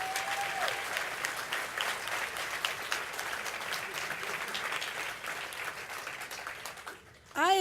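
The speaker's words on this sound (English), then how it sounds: "Let's give him another round of applause" A crowd at a Martin Luther King celebration gives sustained applause, dense clapping with some cheering, stopping abruptly before a voice begins.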